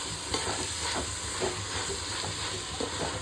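Mint, coriander and fenugreek leaves fry in a pan for chicken biryani, giving a steady close sizzle and hiss with soft stirring scrapes throughout.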